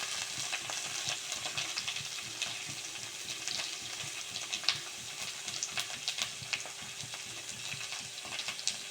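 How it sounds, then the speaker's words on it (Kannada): Onions and green chillies fry in a pan for rasam with a soft, continuous sizzle and faint crackles, quiet and steady throughout with a low constant hum underneath. "ಸ್ವಲ್ಪ ಫ್ರೈ ಮಾಡ್ಕೊಂಡ್ವಿ."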